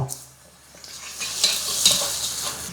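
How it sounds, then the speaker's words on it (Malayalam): Sliced onions fry in hot oil for a chicken biryani masala, a close sizzle that swells as they are stirred, with a few scrapes near the start and louder bursts toward the end. "ഉള്ളി ഇതാ ഗോൾഡൻ കളർ ആവുന്നവരെ വരെ നല്ലോണം മൂപ്പിച്ചിട്ടുണ്ട്"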